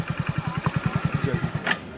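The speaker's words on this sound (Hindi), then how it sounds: "अभी हम लोग बाइक पर हैं, बाइक से उतरेंगे तब आप लोगों को दिखाएँगे।" A motorcycle engine runs steadily while riding, with a regular low pulsing throb close by and fairly loud throughout, plus wind and road rumble and a brief voice near the end.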